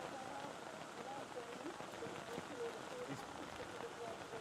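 Rain falls steadily on an open-air commentary box at a country rugby match between Coffs Harbour and Armidale, a constant hiss of drops while commentators talk over it.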